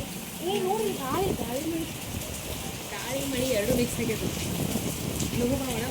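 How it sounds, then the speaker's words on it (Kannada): Heavy rain pours down in a dense, constant hiss while people talk close by over it. "ಇವತ್ತು ಇಷ್ಟು ಜೋರು ಮಳೆ ನೋಡ್ರಿ"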